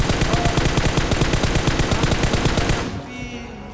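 Automatic weapon fire from PUBG Mobile rattles in a rapid, loud, continuous burst lasting nearly three seconds, then breaks off into a fading ringing tail.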